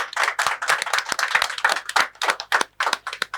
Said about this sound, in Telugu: క్లాప్స్ తోటి దీన్ని వెల్కమ్ చేద్దాం.